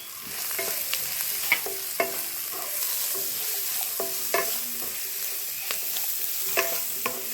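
Sliced onions frying in a pan for a liver roast give a steady, close sizzle, broken by regular spatula scrapes and taps as they are stirred.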